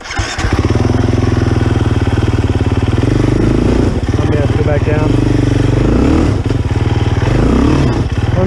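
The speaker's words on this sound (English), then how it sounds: "Two-stroke." A two-stroke motorcycle engine idles and revs loudly at close range, its buzzy rattling note rising and falling in several throttle blips over a steady running drone.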